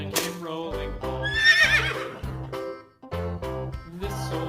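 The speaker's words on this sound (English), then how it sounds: "Horse." Toy horse sound with a whinnying, neigh-like call sitting in the middle of a children's nursery rhyme song, the singing and music carrying on loudly around it.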